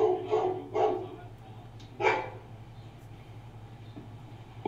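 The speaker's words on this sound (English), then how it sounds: "Oh, the dog's there." A dog barks three times outdoors, sharp and fairly close, two quick barks followed by a third after a pause, with a low background hum and no talking.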